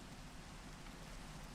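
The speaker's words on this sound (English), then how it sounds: "The rain is definitely going to kill a little bit of the video on YouTube." Steady Minecraft rain, a dense even hiss of falling drops that holds constant without pause, fairly quiet and alone with no voice.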